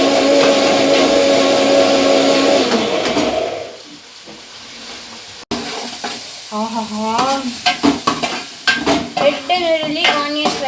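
Red onions fry and get stirred in a pan, a loud steady sizzle with scraping, then a short pause before choppier, intermittent stirring and sizzling resumes.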